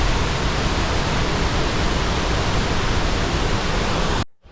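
Gullfoss, Iceland's mighty waterfall, roars as a dense, steady wash of falling water close by, loud and unbroken before cutting off abruptly at the end.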